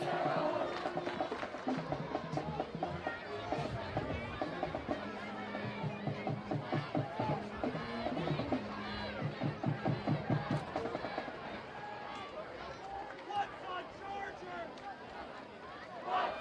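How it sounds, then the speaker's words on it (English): A large stadium crowd at a high school football game roars and cheers continuously, with dense overlapping voices and some brassy tones, swelling and pulsing throughout. "they got some support from their crowd, which is nice to hear"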